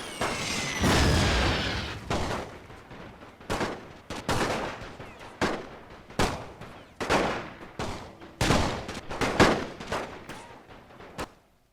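Artillery fire in The Great War video game, a rapid series of sharp, loud booms and cracks in irregular bursts, some overlapping, with no voices over them.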